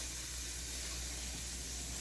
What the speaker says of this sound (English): Now, I'll turn the fan back on.